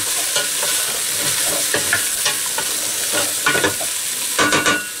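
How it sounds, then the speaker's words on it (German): Sweet potato and peppers sizzle and fry in a pan for a vegetable curry while a utensil stirs them, with steady close frying hiss and scraping bursts of stirring, no talk. "Das jetzt alles einmal schön durchrühren."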